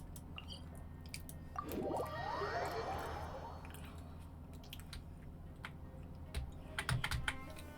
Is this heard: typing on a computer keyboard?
yes